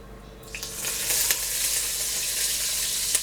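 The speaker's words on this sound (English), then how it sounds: "You want to sear these. You want to get a nice color." Beef shanks searing in a hot pan, a loud, steady close sizzle that swells as the meat goes in and keeps crackling, with a couple of sharp spits and no talk.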